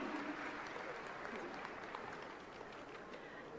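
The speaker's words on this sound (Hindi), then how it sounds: "तो जोरदार तालियां उनके स्वागत में" Applause from an audience welcoming an honoree at a Women's Day government event in India, a steady dense wash of clapping that holds for the whole stretch at moderate distance.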